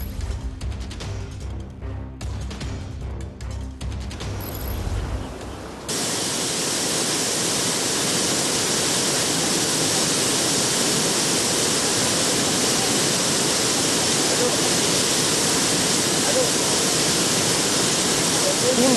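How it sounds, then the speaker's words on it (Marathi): Rain-swollen Panchganga river water rushes over the flooded Shingnapur weir in Kolhapur after days of heavy rain, a steady, loud broadband roar that fills the scene once a brief musical opening ends. "कोल्हापुरातील शिंगणापूर बंधारा ओव्हरफ्लो झाला आहे"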